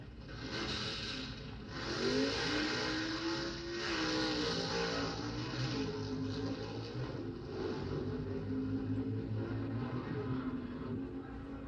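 Vintage 1970 NHRA Pro Stock drag race cars roaring down the strip at the World Finals, a loud sustained engine rumble with rising and falling revs over crowd noise and a faint announcer's voice.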